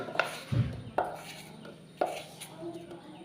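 A knife chops ash gourd for prawn curry on a board in a few sharp, separate cuts spaced about a second apart, close and fairly quiet.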